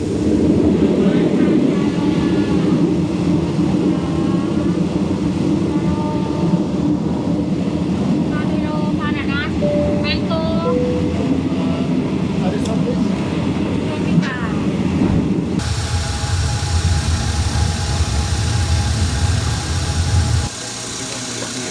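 A 3rd class train rattles along toward the River Kwai, its engine droning steadily with rumble and clatter beneath, then the sound shifts abruptly near the end as the carriage noise changes.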